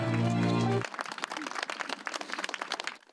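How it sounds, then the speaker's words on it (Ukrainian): After a brief burst of a humming tone, scattered audience clapping follows at an administrative and medical centre opening, individual claps audible and moderately close, fading out at the end. "Друзі, ваші оплески."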